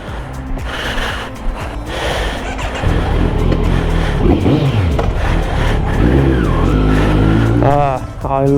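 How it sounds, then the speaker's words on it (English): A 2020 Kawasaki Z900 motorcycle with a slip-on exhaust revs loudly and close by, its engine note rising and falling in strong pulls, with a voice talking over it. "I love the sound of this bike."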